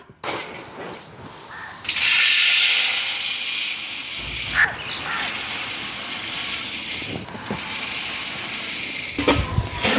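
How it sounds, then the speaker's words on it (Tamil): Coriander seeds are dry-roasted in a pan, producing a loud steady hiss and rustle with a few sharper scrapes and pauses as they are moved about. "முதல்ல நாங்கள் மல்லிகை வறுப்போம்"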